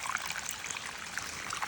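A small woodland brook runs after a night of moderate rain, giving a steady, close trickling and babbling with no voices over it.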